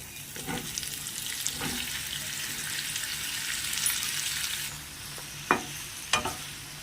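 Cut mushrooms sizzle steadily in a hot pan with bright, continuous frying hiss, broken by a few sharp clicks of stirring near the end.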